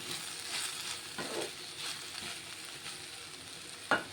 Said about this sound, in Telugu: ఇదంతా ఫ్రై అవుతుంది